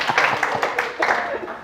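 A small audience breaks into brief, uneven clapping at a lecture on conflict management and communication, the claps scattered and close, with a speaker's voice running over them.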